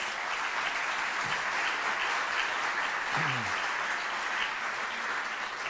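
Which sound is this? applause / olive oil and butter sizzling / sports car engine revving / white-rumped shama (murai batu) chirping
applause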